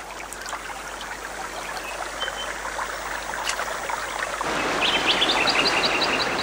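A boulder-filled stream in the Great Dividing Range rushes with a steady broad wash of water, while birds chirp faintly and then in a brighter repeated series near the end.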